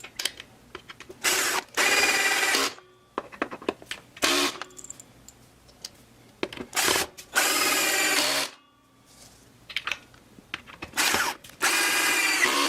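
A handheld power drill whirs in repeated bursts of a few seconds each, stopping and starting as holes are bored in a Glarry guitar, loud and close with brief pauses between.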